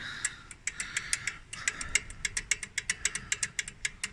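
A lawn mower engine runs after a governor repair, giving a steady close putter with regular rapid knocking pulses and no speech.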